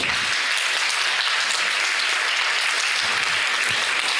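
Loud, dense applause from a church congregation during a Spanish-language sermon: a steady roar of many hands clapping close by, sustained without a break for the whole four seconds.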